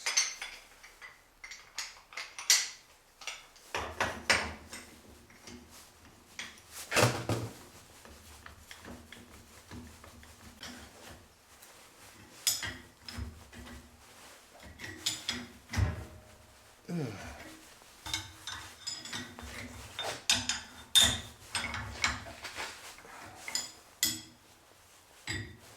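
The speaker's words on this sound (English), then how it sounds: "So here I'm back with my puller, 3-jaw puller." A three-jaw puller works a pinion bearing off a busted rear differential: scattered metallic clanks, clicks and scrapes come up close, in irregular bursts with quiet gaps.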